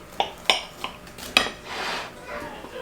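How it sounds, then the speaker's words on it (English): A knife cutting cornbread in a home kitchen, several sharp metallic clinks as the blade strikes a pan, followed by a softer scraping and shuffling. "I'm going to go ahead and cut the cornbread."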